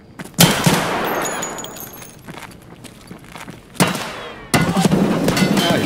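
Escape From Tarkov gunfire: a loud sharp shot with a long echoing tail, then quieter shuffling, and two more close, loud bursts of shots, each cutting in abruptly.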